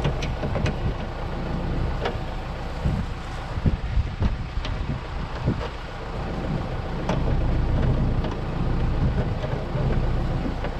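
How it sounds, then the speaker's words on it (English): Wind blows hard across a farm field during corn chopping, a continuous gusty roar with rumbling buffets and scattered crackles close to the microphone. "Don't mind the fucking wind."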